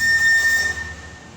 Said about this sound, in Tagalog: so yung tunog ng ating freon, yan, kumakarga siya.